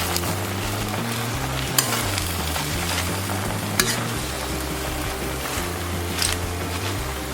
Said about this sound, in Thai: เราจะค่อยๆผัดกวางตุ้งกันนะคะ